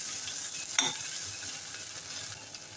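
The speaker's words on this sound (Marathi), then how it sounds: "टोमॅटोला एक दोन मिनिटे छान परतून घेऊया" Chopped tomato with coriander and a little green chili sautéing in a pan, a soft continuous sizzle with one sharp spatula scrape early on, close and fairly quiet.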